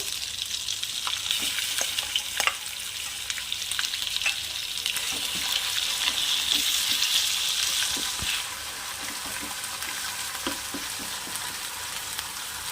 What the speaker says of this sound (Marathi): कढीपत्ता आणि आता हे आपण वाटण ॲड करू